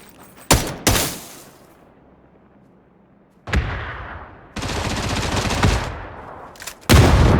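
Gunfire in the video game PUBG: separate loud bursts of rapid shots, a pair early, then longer sustained strings of fire later, with quiet gaps between.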